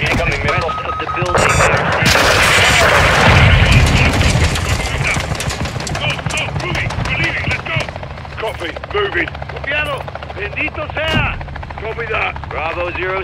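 Missile strike on a building in Call of Duty Modern Warfare II, a loud sustained blast and rumble giving way to rapid gunfire bursts, crackling debris and helicopter-like drone, with voices mixed into the battle din.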